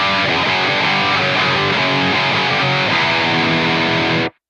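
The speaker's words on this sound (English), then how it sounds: "I still want to hear that dual rectifier sound, but I want enough distortion" Dense, high-gain electric guitar through an AmpliTube 5 dual rectifier amp, heavily distorted chugging riffs played loud and continuous, then cut off abruptly near the end.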